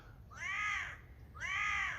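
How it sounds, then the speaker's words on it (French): A crow calls twice from directly overhead near the sea in southern France, two harsh, drawn-out caws separated by a short pause, loud and clear over faint background noise. "il y a un corbeau juste au-dessus de moi"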